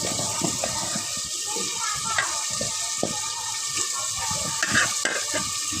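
Cut potatoes fry in a hot pan, a continuous loud sizzle with scraping stirs and occasional splashy bursts throughout.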